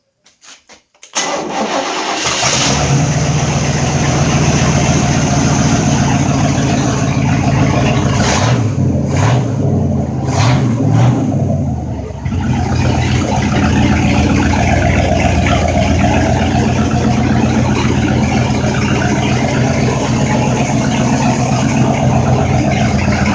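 A MerCruiser 5.7-liter standard-rotation marine engine cranks, catches after a second and settles into a loud, steady idle, with a brief throttle blip near the middle before running on evenly at close range.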